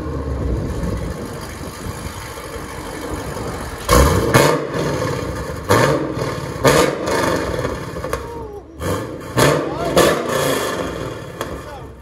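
A 2010 Chevy Camaro SS with a 6.2L V8 and Corsa exhaust mufflers idles, then gives several sharp, loud revs in a row, each dropping back to a burbling idle. People talk over it.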